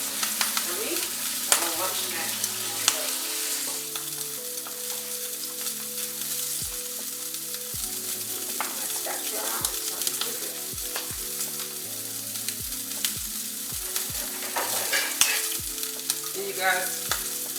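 Salmon pan-searing in a hot pan, a steady crackling sizzle that runs throughout, close and fairly loud, with occasional stirring clatter and no voices.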